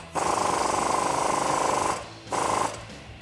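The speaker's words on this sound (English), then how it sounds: "So I'm gonna use that same 19mm socket." A 19mm socket on an impact tool tightens a bolt on a Jeep Wrangler JL suspension during a spacer lift install, giving a loud rattling burst of almost two seconds, a pause, then a shorter second burst.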